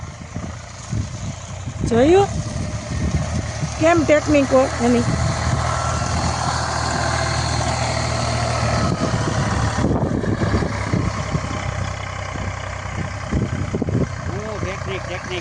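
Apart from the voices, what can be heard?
tractor reversing, engine running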